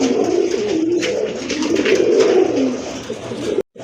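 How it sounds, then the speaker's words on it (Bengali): A large male Shua Chandan pigeon, light in colour, coos close by in low, rolling, repeated phrases that run almost continuously before stopping abruptly near the end. "এটা হচ্ছে নর কবুতর, আপনারা কিন্তু বুঝতেই পারছেন, দেখেন কত সুন্দর ডাকে"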